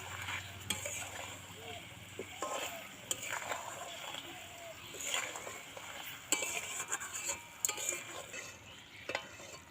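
A spoon gently mixes ground spice into a raw green mango sweet-sour-spicy chutney, giving soft, irregular scraping and clinking strokes against the pot, fairly close and quiet, with no voice over it.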